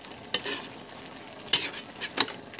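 A spoon stirring a Bicol-style jackfruit (langka) dish cooked in coconut milk with lemongrass in a pot, three distinct scraping strokes against the pot over a faint simmer, close and quiet.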